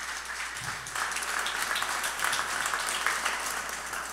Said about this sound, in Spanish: Denle un aplauso bien fuerte a nuestro Dios